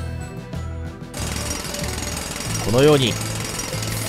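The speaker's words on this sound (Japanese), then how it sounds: "空気圧ドリル、みんなも普段から使ってると思うけど、この文明の利器" A pneumatic drill bores straight down into the ground in the video game LEGO Worlds, a steady loud mechanical hammering that runs under someone speaking Japanese, along with a brief rising game effect.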